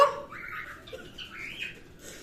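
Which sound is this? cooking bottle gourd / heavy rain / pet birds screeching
pet birds screeching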